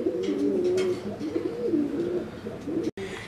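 A pigeon coos close by in a steady run of soft, throaty, rolling calls that repeat for a few seconds, with no one talking.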